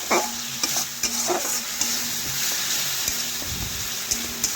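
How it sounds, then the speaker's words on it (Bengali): Chopped tomatoes fry in a ground spice paste for a Bengali rohu fish curry, giving a soft continuous sizzle under intermittent scraping strokes of a spatula, close up and alone without voices. "সেই টমেটোগুলো দিয়ে দিচ্ছি। মশলার সাথে ভালোভাবে ভেজে নেব, এইভাবে নাড়াচাড়া করে।"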